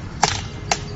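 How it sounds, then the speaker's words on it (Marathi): A woodpecker pecking a hole in a tree trunk, heard as two sharp, hollow knocks about half a second apart, close and clear against a quiet background. "सुतार पक्षी झाडाला छिद्र पाडून त्याच्या परिवारासाठी एक ढोली बनवत होता."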